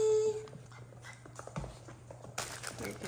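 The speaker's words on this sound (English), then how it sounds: "These puppies are so fun." Doodle puppies romping around indoors, with soft scuffling, light thumps and faint whimpers and yips, fairly quiet and close, ending in a brief burst of broadband rustling.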